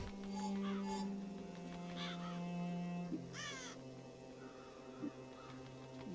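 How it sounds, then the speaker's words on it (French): Crows caw in a deserted village in the video game Child of Light, a few harsh rising calls spread over the scene above a low steady musical hum. "Bah si, il y a des corbeaux."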